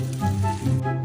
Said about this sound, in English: Now fry them until golden brown, like this.